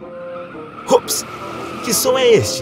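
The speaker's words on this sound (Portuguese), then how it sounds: "São motores urrando." Cartoon race cars in a children's animation arrive at night with short bursts of screeching tires and engine noise, two or three quick skids at moderate volume, mixed under a character's excited speech.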